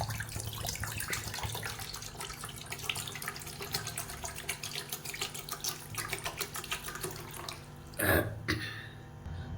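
Tender coconut water poured out of the nut, making a faint, steady trickle and splash, with a brief louder gush near the end.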